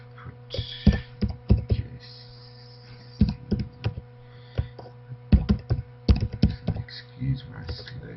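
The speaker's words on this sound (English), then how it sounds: "excuse my slow typing." Someone types slowly on a computer keyboard in an optometry practice, with irregular bursts of close clicks and pauses between them over a low steady hum.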